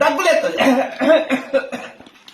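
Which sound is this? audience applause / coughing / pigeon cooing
coughing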